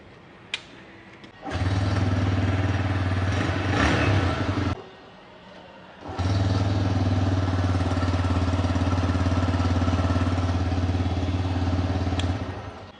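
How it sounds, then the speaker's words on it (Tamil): A TVS Raider 125 motorcycle, the 2025 kick-start version, is kicked into life and settles into a steady, close single-cylinder idle, cuts out briefly, then is restarted and idles evenly again. "லைட்டா நம்ம வந்து கிக் பண்ணாலே வந்து ஸ்டார்ட் ஆயிருது."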